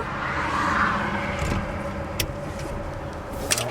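A 1957 Chevy car rolls along on its first drive with a steady low engine and road rumble throughout, a couple of brief sharp clicks or rattles near the end.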